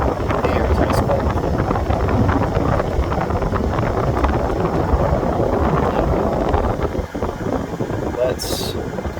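The HVAC blower of a 1997 Mercedes-Benz SL600 pushes air through the dashboard vents, a loud, steady broadband rush of airflow that holds nearly constant throughout.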